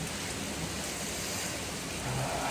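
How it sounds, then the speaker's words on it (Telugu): Heavy rain pours down in Arunachalam during the giri pradakshina circuit walk. A dense, loud, continuous hiss of downpour fills every moment, with no voices. "ఫుల్ వర్షం పడుతుంది గట్టి పడుతుంది వర్షం మామూలు పడట్లేదు"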